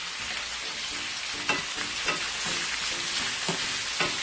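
Chopped ginger and garlic sizzle steadily in a hot pan with oil, a continuous dense fry punctuated by a few louder crackles and stirring scrapes, close and alone without talk.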